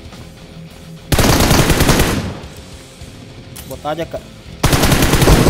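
Loud automatic gunfire rips out in two long sustained bursts in PUBG Mobile, close and dense, with a short spoken line in the quieter gap between them.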